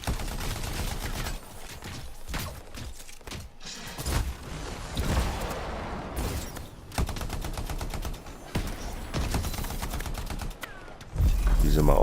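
Gunfire in the video game Anthem: rapid bursts of automatic fire and scattered shots, loud and close, with heavier thumps near the end.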